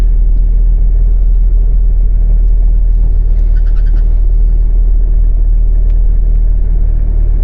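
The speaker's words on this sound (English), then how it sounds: "Now hopefully I don't reverse into these people that have parked right behind me." A commercial van idles and creeps in reverse while turning in a tight space at a wet campsite, a steady low engine rumble close by with faint higher clicks, no talk.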